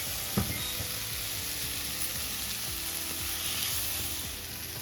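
Steady loud sizzling of onion frying in hot oil in a pan, with a few light scrapes of stirring, continuous throughout.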